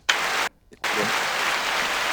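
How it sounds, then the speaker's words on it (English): Applause on a podcast, two bursts of dense clapping separated by a brief silent gap, close and fairly loud with no voices over it. "we got applause going for Spencer right now"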